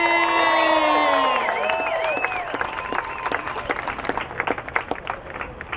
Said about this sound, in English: You all should applaud yourselves.